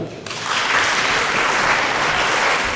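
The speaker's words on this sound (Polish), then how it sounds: "Wielkie brawa." After a brief quiet moment, a concert audience breaks into sustained, full applause welcoming two performers to the stage at a memorial tribute event; the clapping stays broad and even to the end.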